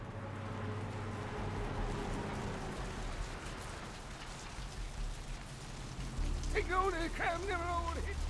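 Steady rainfall pattering on surfaces throughout in the video game Vampire: The Masquerade – Bloodlines, with a brief voice-like sound rising near the end.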